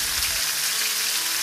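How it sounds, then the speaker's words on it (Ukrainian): Marinated chicken drumsticks laid into hot oil in a frying pan, crackling and sizzling in a steady close hiss for a moment, alone without talk. "Викладаємо гомілки на сковорідку, обсмажуємо з усіх боків протягом 20 хвилин."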